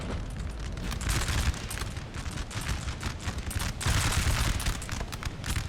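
Dense musket volley fire in a Napoleonic Total War battle at Montmirail, 1814: a continuous crackling roar of many muskets with surging louder bursts, sustained and heavy throughout.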